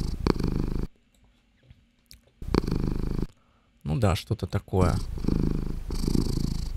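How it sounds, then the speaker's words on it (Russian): Cat purring, used as sound design for the video game Stray: close, loud rumbling purr in stretches broken by silent gaps, with someone speaking briefly in Russian in the middle. "котик, да, наверное, либо там его мурчание"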